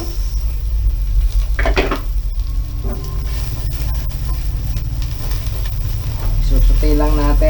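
Chopped onion sautéing in a pan for a Filipino braised pork hock soup, a steady close sizzle and frying hiss with pan and utensil clatter, a stirring scrape near the end and some voice over it.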